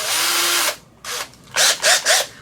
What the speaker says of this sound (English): I'm gonna use a smaller drill bit